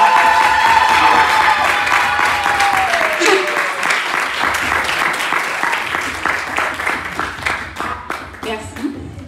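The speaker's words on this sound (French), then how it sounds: "J'aimerais qu'on puisse célébrer par une pluie d'applaudissements la femme." A large audience bursts into sustained applause with some cheering at an evening gathering celebrating women, the clapping loud at first and slowly thinning, while a voice speaks faintly over the start.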